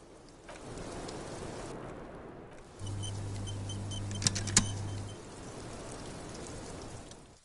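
Steady rain falls in Disco Elysium, a soft hiss throughout with a low hum in the middle and a couple of sharp clicks, no voices heard.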